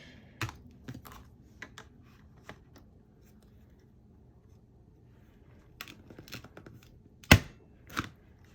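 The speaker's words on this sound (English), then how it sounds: "This is the Recollections hole punch that I found at Michael's, and it really does such a great job." Recollections hole punch punching holes in a paper planner cover and dividers: scattered sharp clicks and clacks at irregular intervals, close and fairly quiet, with two louder punches near the end and no talking.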